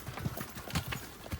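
Horse hooves clip-clop at an uneven walking pace inside a deep, dark cave on a trail near Quimixto waterfall, Puerto Vallarta, several close thuds landing in short bursts with a faint hollow echo.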